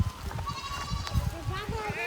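Goats bleating as they are herded home, several wavering cries heard close over a person talking and calling to them.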